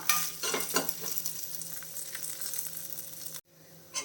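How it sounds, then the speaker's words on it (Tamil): Dried red and green chillies roast in a pan on moderate heat with a soft, even sizzle and a few stirring scrapes, close and fairly quiet, then the sound cuts out briefly near the end. "இதில் வந்து ஒரு நாலு காஞ்ச மிளகா இப்போ சேர்க்குறேன்"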